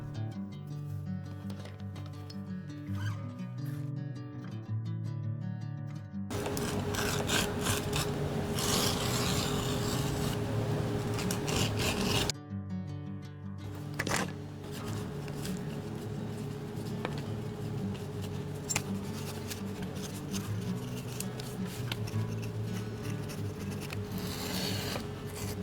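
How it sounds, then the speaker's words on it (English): An edge beveler scrapes along the visible edges of a leather cowboy roper wallet, including pocket tops and the zipper opening, in close, repeated rasping strokes with no talking. "Bevel all the visible edges, including the pocket tops and the zipper opening."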